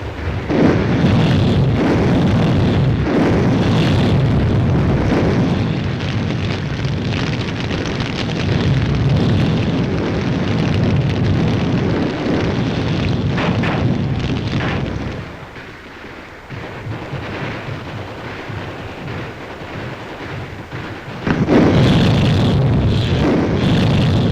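Heavy enemy gunfire and explosions pour from caves during a 1944 WWII battle in the Marianas, a dense, loud, continuous rumble of blasts and firing that briefly thins before surging back near the end.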